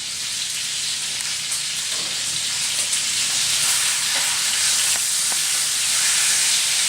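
Peppercorn steaks sizzle loudly and steadily in a hot pan just after being turned, a dense continuous frying hiss with faint crackles and pops, heard close with no talking.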